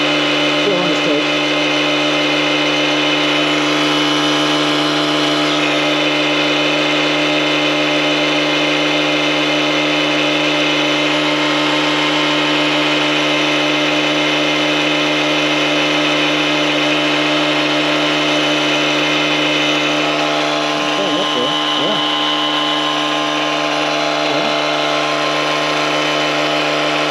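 An Etenwolf Vortex S6 portable air compressor runs continuously at close range with a loud, steady motor whine and hum that holds level throughout, while a person talks over it.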